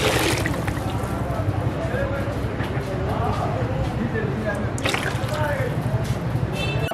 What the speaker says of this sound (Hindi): क्योंकि पानी इसमें थोड़ा इस्तेमाल होगा इसलिए थोड़ा पानी पहले डाल लेंगे देगचे में।